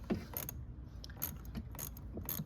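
A micro socket ratchets a bolt on the air intake of a Hyundai Veloster N, giving a close, quiet series of irregular metallic clicks in short bursts.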